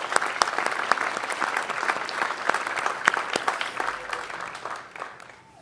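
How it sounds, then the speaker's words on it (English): Audience applause in a university auditorium at a fall graduate commencement ceremony, steady dense clapping from a large crowd that holds throughout and fades slightly at the end. "Let's have a big round of applause for all these colleagues"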